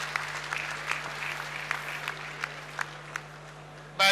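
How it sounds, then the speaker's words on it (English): Scattered applause from an audience at a university convocation, light and fairly distant with a few sharper individual claps over a steady electrical hum, ending in a brief loud bump. "Please give me a round of applause"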